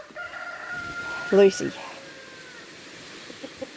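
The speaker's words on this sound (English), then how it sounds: "It's a lovely big rooster." A big rooster crows once, short and fairly close, with a few soft clucks afterward, while a person speaks briefly over quiet farmyard background.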